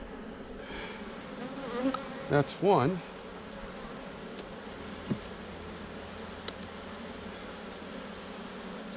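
Honey bees hum softly and continuously in the background, some bringing in pollen to the hive, while a person speaks a few words nearby.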